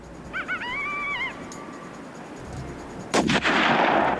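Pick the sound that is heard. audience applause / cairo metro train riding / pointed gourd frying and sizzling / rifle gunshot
rifle gunshot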